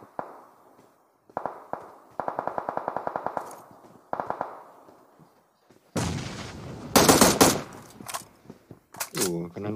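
Gunfire in a battle royale shooter during a late-circle scrim. Sharp rapid bursts of automatic fire come in separate volleys, followed by a louder, noisier close-range exchange, with squad members talking over it.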